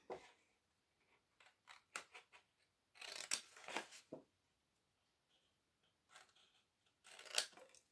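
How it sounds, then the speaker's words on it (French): Small scissors cutting the corners of a cardboard drawer box, heard as quiet, close snips in short clusters separated by brief pauses, with no talk. "je vais le faire avec ce petit ciseau."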